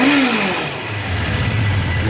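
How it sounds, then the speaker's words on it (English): An old four-cylinder air-cooled motorcycle engine, loud and close, rising in a brief rev then settling into a steady, rough running drone. "this bike was made to turn a lot of RPMs, as all the old 4-cylinder air-cooled bikes were"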